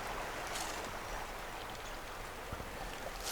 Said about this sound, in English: River is really swift right now